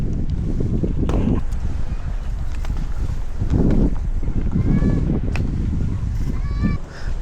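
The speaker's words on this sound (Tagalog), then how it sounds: "Grabe, lakas ng hangin." Strong wind at a campsite in Zambales buffets the microphone in heavy rumbling gusts and pushes against a tent, with faint voices and rustling in the background.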